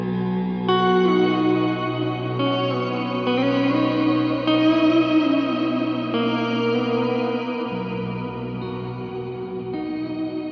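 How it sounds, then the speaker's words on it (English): A guitar runs through a JHS 3-Series Octave Reverb pedal on its upper octave setting, giving sustained chords a shimmery, chamber-like wash of reverb that rings continuously. "I get that sort of chambery, shimmery sound out of it."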